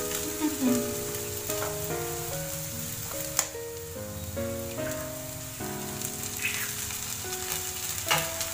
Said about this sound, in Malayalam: ഇതിലേക്ക് ഞാനിപ്പോ 2 മുട്ടയാണ് ഇടുന്നത്.